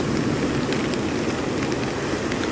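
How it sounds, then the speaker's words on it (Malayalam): Heavy rain pours steadily during sea fishing, a dense, even hiss with no pauses throughout. "നല്ല മഴ പെയ്യുന്നുണ്ട്, ഇപ്പോൾ വീഡിയോ എടുക്കാൻ കുറച്ച് റിസ്ക്കാണ്"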